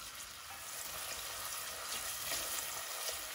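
Onions fry in hot oil in a pot for jollof rice, giving a steady, close crackling sizzle that runs throughout without talk.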